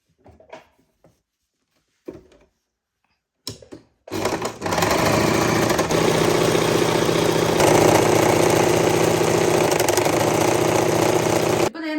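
Domestic sewing machine stitching along a fabric edge while tailoring a sleeve: a few short taps and bursts at first, then a loud, continuous, steady mechanical whir close by that runs to the end.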